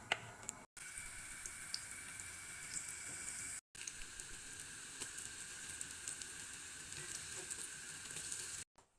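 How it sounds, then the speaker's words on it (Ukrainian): Oil sizzles and crackles steadily in a pan frying onion and ground-oat pancakes, a soft continuous frying hiss with small pops, briefly cut by a few dropouts. "Смажимо на олії."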